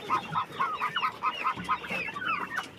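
A hen clucks repeatedly in a quick, uneven rhythm, moderately close, with soft background noise.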